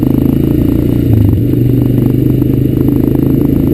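A Honda Recon ES ATV engine running on an outdoor ride, a loud close steady putter with rattling, clattering chassis noise and slight surges in pitch, no talking.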